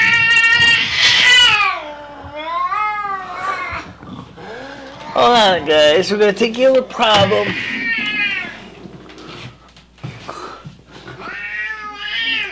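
A cat meows and caterwauls loudly and repeatedly at close range, drawn-out wavering cries, while a person talks over and between them.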